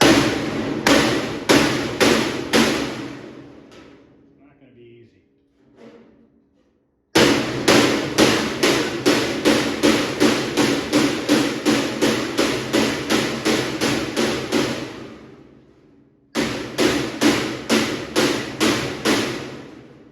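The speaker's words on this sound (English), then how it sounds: "I want to see if I can try to radius this a little bit by a hammer and dolly" Loud, rapid metallic hammer blows ring out in fast bursts, pausing briefly between runs, the clanging of shaping sheet metal on a dolly up close.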